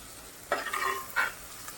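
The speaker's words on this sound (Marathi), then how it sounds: "आता आपला कांदा चांगला लाल झालेला आहे, त्यामध्ये आपण पेस्ट घालून घेऊया। आणि ती चांगली परतून घ्यायची आहे" Masala paste stirred into deep-browned onions for Malvani chicken makes two brisk bursts of close scraping and sizzling, with a low background hiss between them.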